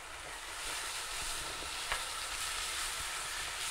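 Ginger paste frying in a pan for mutton keema, a steady even sizzle with a couple of faint spatula scrapes as it is stirred, no voices.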